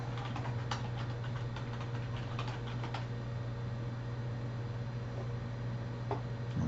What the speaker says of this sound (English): If I can type my password right.